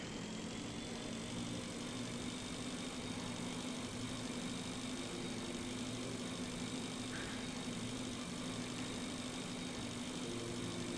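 A motor scooter engine in the video game Breathedge hums steadily and quietly throughout, a constant drone with no speech.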